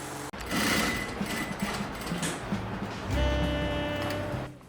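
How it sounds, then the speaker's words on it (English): A sewing machine runs close and steady as it stitches the outer shell of a foam-filled fabric koozie closed, humming continuously with a brief stop near the start and a louder push late on. "we're gonna close it up and sew it together"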